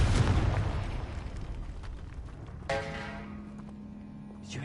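Confringo spell explosions in the wizarding game Hogwarts Legacy inside a tomb, a loud fiery burst at the start that fades, then a second sharp blast with a ringing tonal tail, with faint talk.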